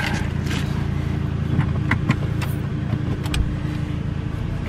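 A 2008 Ford Explorer idling steadily, its engine a low constant hum with a few light clicks and clunks as the transmission is shifted into reverse, close and alone.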